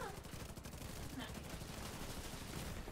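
Rapid video game gunfire in a multiplayer shooter, dense bursts of automatic shots crackling continuously, fairly faint and mixed under background noise.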